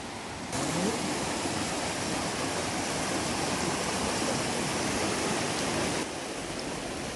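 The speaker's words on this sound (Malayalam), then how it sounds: "അടിയിൽ കൂടെ മനോഹരമായിട്ടുള്ളൊരു വാട്ടർഫോൾസാണ് പോയിക്കൊണ്ടിരിക്കുന്നത്" Waterfall flowing beneath a bridge at a resort in Munnar, a dense steady rush of water that swells in loudly after a moment and eases slightly near the end.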